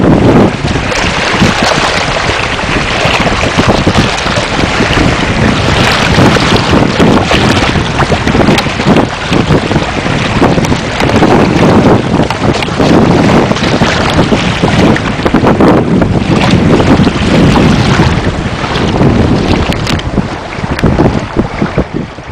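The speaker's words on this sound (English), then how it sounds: "That's pretty good speed for just sailing in an inflatable dinghy." Inflatable dinghy (Seahawk) under sail with a sail kit, carrying steady loud wind buffeting across the microphone alongside constant rushing and splashing water against the hull throughout.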